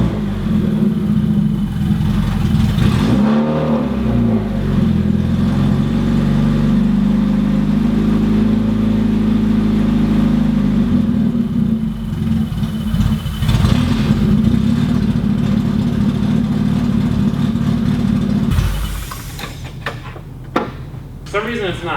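A supercharged Mazda Miata rally car runs loud and close with part of its exhaust unplugged, droning and surging unevenly as it refuses to settle at idle, then cutting off near the end; a person speaks over it.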